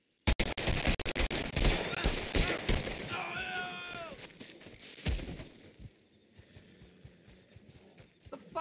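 Gunfire in the game WildRP, a rapid burst of sharp cracking shots followed by a few scattered louder reports, with a voice briefly heard mid-exchange.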